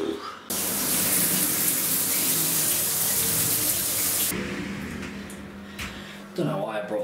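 A household shower runs with a steady, loud broadband hiss of spraying water up close, which then eases off toward the end as a voice begins talking over it.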